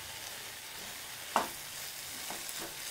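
Egg and chicken stir-frying in an oiled pan for kothu kari, a steady close sizzle with a single sharp clank and a few softer scrapes of a spatula mixing, no voices.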